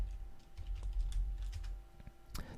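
Quiet tapping on a computer keyboard while entering data in an Excel spreadsheet, a steady patter of light keystrokes over a low background hum, with no one speaking.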